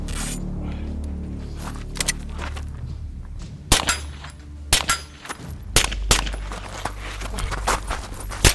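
Gunshots from a suppressed firearm fired outdoors: a rapid, irregular string of sharp, muffled cracks over a steady low rumble, fairly close and loud.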